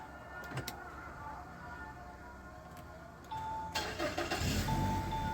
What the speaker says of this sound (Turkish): Aracımız çalıştı araç içinden ve turuncuya döndü